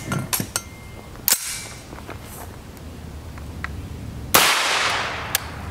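Glock 19 pistol firing 9mm 108-grain Norma monolithic hollow point rounds, two sharp loud shots a few seconds apart, with faint clicks and handling noise in between.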